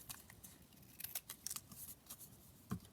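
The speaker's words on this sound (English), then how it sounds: "I might just trim it down slightly at the edge" Scissors trim the edge of a paper flippy pad, giving a few quiet, close snips over faint crinkling paper.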